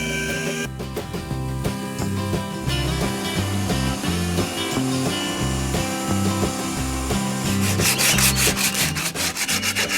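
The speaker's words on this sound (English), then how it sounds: "It was then sanded smooth to make way for the paint." Red filler putty being sanded smooth over boat laminate, a steady rubbing scrape repeating with rhythmic strokes, loud and close, with no talking.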